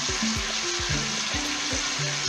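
Mixed vegetable chochchori being stirred in a pan, a steady frying sizzle with soft scraping strokes of a spatula repeating every half second or so, close and even, with no voices.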